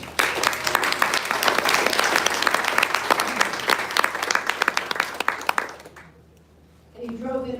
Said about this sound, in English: A round of applause for Chris Morris.